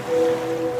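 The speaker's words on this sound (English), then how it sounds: "now you're drifting asleep to the scent and sound of waves" Ocean waves in a detergent commercial, a brief, steady wash of surf with a low hum running under it.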